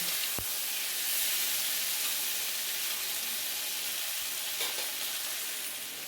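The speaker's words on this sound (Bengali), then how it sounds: "তারপর সবগুলো একসাথে ভালো করে ভেজে নেব।" Fish head fries with tomatoes, garlic paste and vegetables in a pan, a soft, even hiss of sizzling oil running throughout, fairly quiet and close, with a couple of faint knocks.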